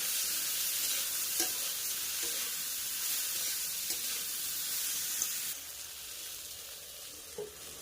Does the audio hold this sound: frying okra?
yes